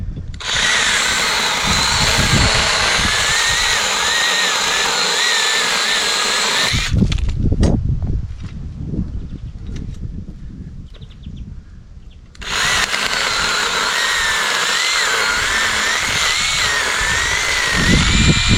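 A cordless battery-powered mini chainsaw cuts through wood, running as a loud steady whine that stops for several seconds of scraping and handling before starting again, with no voices.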